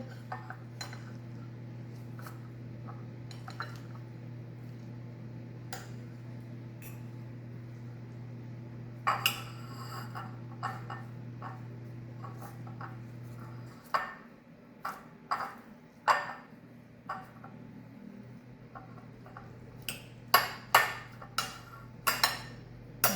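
Utensils mix spaghetti squash bolognese in a dish, making scattered sharp clinks and scrapes of metal on crockery over a low hum that cuts out midway, with the clinks growing busier toward the end.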